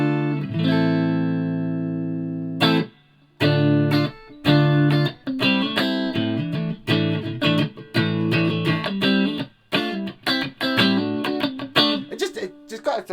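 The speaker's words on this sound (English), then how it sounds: "put the chorus pedal in, might be an idea. Get some proper 80s jangle on the go." Clean electric guitar strums with a shimmering, wavering chorus tone, played in bursts of chords with brief pauses, loud and close.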